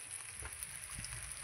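Fish heads sizzle in frying oil, a faint, even hiss with light crackling throughout, heard alone without speech.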